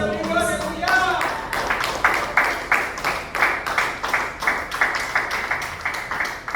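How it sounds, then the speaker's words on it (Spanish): A church congregation claps in a steady, rhythmic beat, evenly spaced handclaps that follow a brief spoken voice and continue alone at a moderate distance. "Denle un aplauso al Señor por eso"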